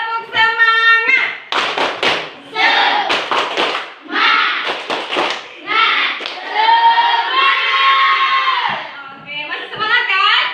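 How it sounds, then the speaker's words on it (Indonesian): A school class performs the rhythmic tepuk semangat spirit clap, sharp bursts of hand claps in patterned groups alternating with children chanting and shouting together loudly. "sebelum itu kita tepuk semangat dulu"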